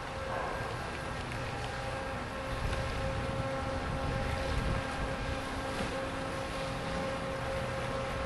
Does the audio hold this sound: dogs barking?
no